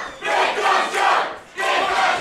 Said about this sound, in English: Listen to this support for Big Guns Joe from the crowd here in Stratford-upon-Avon.